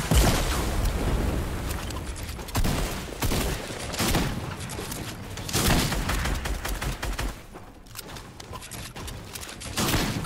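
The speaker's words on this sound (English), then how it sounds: "Your team is shooting at me from afar." Gunfire in Fortnite rattles loud and nearly nonstop in dense bursts and rapid volleys, with a brief lull before the shooting resumes.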